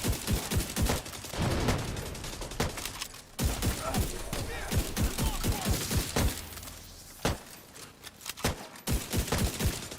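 Blind-fire gunshots in the shooter game The Division 2, rapid bursts of automatic gunfire that go on for most of the stretch with one short pause, loud and close, with sharp, cracking shots.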